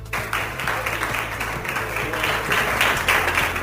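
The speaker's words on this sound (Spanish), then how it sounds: "Aplausos al presidente del gobierno" A crowd applauds the Spanish prime minister Pedro Sánchez at the Moncloa palace, with dense, steady clapping that holds for several seconds over a faint low tonal hum.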